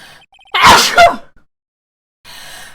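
One loud, close sneeze bursts out in two sharp parts, with near silence before and after and faint electronic game sounds at the edges.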